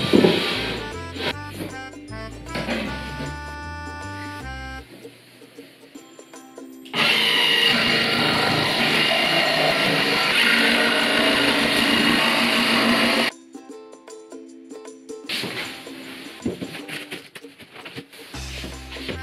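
A power tool cuts through Styrofoam insulation board for DIY floor insulation, a loud steady whirring roar lasting several seconds, with shorter bursts of cutting and handling noise before and after it.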